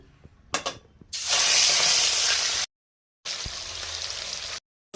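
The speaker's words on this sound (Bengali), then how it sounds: "এবার লবণ হলুদ মাখিয়ে মাছগুলো ভেজে নেবো" Rohu fish pieces coated in salt and turmeric sizzle loudly in hot oil in a kadai, a steady close frying hiss that cuts out briefly and resumes, preceded by a few soft clatters.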